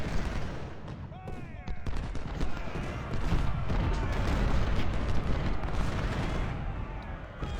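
Battle sounds from the Civil War strategy game Ultimate General: Civil War, with dense rolling musket volleys and booming artillery fire that build into a loud, continuous din, while a voice talks over the fighting.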